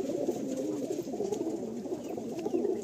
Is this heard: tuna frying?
no